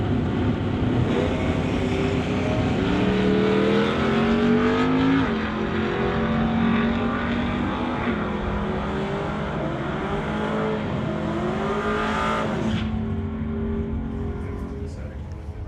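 Dodge Dart and Chevrolet Nova launch at an NHRA Summit ET drag race: loud, continuous engine roar with rising and falling pitch as the cars accelerate, under an announcer's talk, cutting off sharply near the end.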